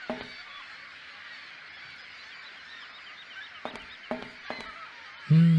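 Honking bird call in the adventure video game Syberia, a single low honk arriving late over a quiet ambient game background with a few faint clicks.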